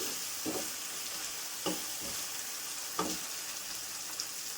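Two medium-sized tomatoes sautéing in a pan for a chicken curry give a faint, steady sizzle with three or four soft stirring scrapes spaced a second or so apart, no voices.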